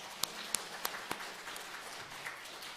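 A church congregation applauding a visiting missionary after a mission report service, with a few sharp isolated claps at first, then a light scattered patter that stays soft and fairly distant.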